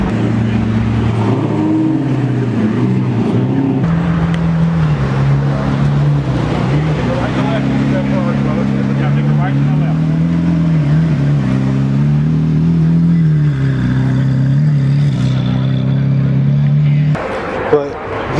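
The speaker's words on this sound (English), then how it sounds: "We got Steve rolling in with the Hako and the wide body 458." A wide-body Ferrari 458 rolls in at a car show, its engine a loud, steady low rumble that wavers with the throttle, with crowd chatter and talking over it.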